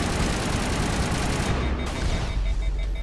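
Rapid gunfire from the Mass Effect Legendary Edition video game, a loud, dense barrage of overlapping shots and bursts that runs without pause for the full three seconds, with no voices standing out above it.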